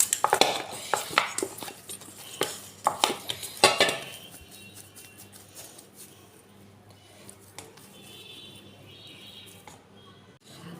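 Dough for dal puri being cut into portions with a metal utensil against a plate: a series of sharp clinks and scrapes in the first few seconds, then quieter faint handling and light taps.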